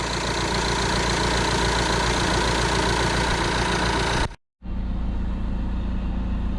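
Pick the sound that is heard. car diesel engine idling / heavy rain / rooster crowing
car diesel engine idling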